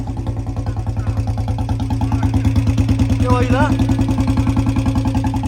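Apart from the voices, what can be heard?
Royal Enfield Bullet motorcycle engine idling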